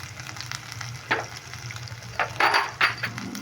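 Ground spices with turmeric and salt sizzle in a hot pan while being stirred, steady crackling frying noise with several louder scraping bursts of the spoon against the pan, close and alone.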